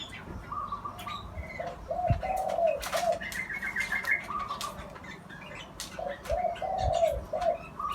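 Soft repeated cooing phrases from a zebra dove, with other birds chirping and calling around it in an open outdoor setting.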